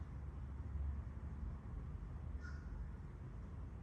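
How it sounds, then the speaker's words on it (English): A crow caws outdoors, a single short call at a distance, faint above a steady low rumble of background noise. "now there's a crow cackling outside."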